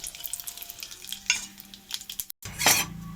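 Mustard seeds and dry red chillies dropped into hot oil, crackling and popping in irregular bursts with spoon and pan clatter, building to a loud sizzle near the end.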